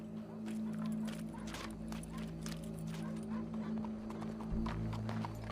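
Horse hooves clip-clop at a steady walking pace in the Red Dead Redemption 2 video game, moderately loud over a continuous low hum and game ambience.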